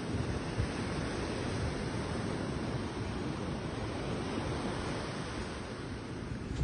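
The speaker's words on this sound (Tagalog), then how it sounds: "ang lalaki ng alon," Big ocean waves breaking on a beach, a continuous loud roar of surf mixed with wind noise and no voices.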